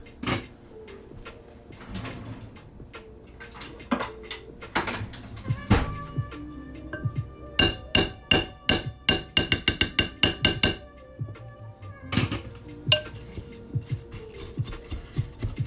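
A mixing spoon works through thick, sticky peanut butter granola in a bowl, giving irregular knocks and scraping clatters that bunch into a rapid run of sharp taps midway, close and fairly loud.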